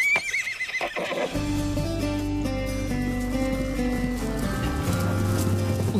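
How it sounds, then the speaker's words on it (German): Purebred Arabian horses on a remote farm in Thurgau give a loud, high whinny up close at the start, followed by lower snorting and stable noise under a bed of steady background music. "Auf dem Grubhof gibt es keine Kühe, sondern Ross."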